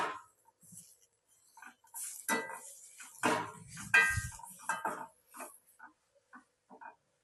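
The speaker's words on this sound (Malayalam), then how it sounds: "നമുക്കിത് വേവണ വരെ ഇങ്ങനെ ഇളക്കി കൊടുക്കാം കേട്ടോ." A spatula scrapes and knocks in irregular bursts against a pan while leafy greens and egg are stirred for a Kerala thoran, with quiet gaps between the clatters.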